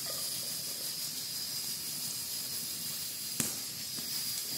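Meat sizzling in a pan on a rural stove, a continuous close hiss and crackle with one sharper pop partway through, no talking.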